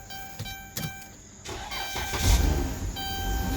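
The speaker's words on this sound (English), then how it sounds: "The van is running." A van's engine cranks and catches after a fuel pump repair, with a few clicks and cranking bursts before the motor fires up and settles into a steady, close idle.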